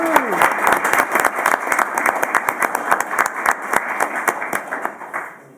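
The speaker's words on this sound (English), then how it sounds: "one more round of applause for all of our students of the month." An audience at a board of education meeting claps for students of the month, a dense burst of hand claps that stays loud and steady before tapering off at the end.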